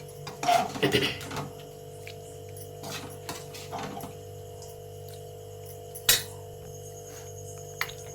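Fried tomato and dried red chillies with salt are pounded by hand for cucumber chutney, producing a few irregular, close knocks and clatters separated by quiet gaps over a steady low background hum.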